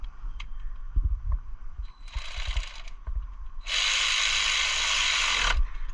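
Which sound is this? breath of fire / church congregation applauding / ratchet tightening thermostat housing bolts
ratchet tightening thermostat housing bolts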